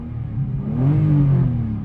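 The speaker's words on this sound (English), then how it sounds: "Let's make sure it's in neutral. So let's rev it out a little bit." A Lexus IS300 with an aftermarket exhaust revs in neutral, the engine note climbing from idle into a swelling, throaty rise that peaks and then eases back, loud and close.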